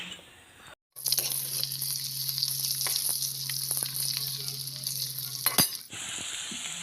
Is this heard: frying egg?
yes